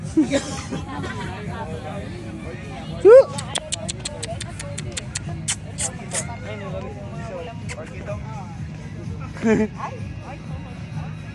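A stray dog barks repeatedly in short bursts amid background chatter and people talking, fairly close, with scattered yips.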